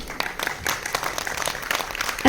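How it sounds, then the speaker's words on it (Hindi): A small audience at a poetry recital gives a short burst of applause, a few people clapping together at moderate loudness, brief and unbroken. "एक बार 2-4 लोग तालियां बजा दीजिए।"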